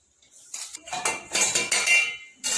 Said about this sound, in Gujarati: હવે આપણે તપેલીમાં લઈ લઈશું